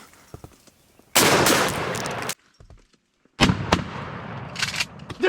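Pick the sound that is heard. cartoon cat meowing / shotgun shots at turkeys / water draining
shotgun shots at turkeys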